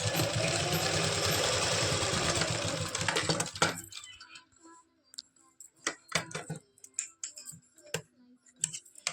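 A sewing machine stitches stretchable fabric for a palazzo pant in a steady, dense run for about four seconds, then stops, leaving scattered clicks and handling taps of fabric and tools.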